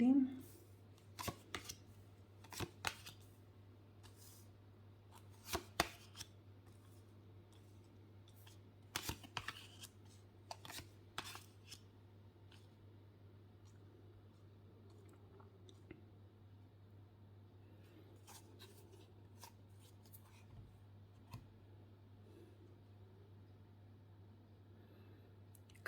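Tarot cards gathered up and cleared away by hand: a burst of quick papery slaps and shuffles in the first ten seconds, then sparse soft clicks over a steady low hum.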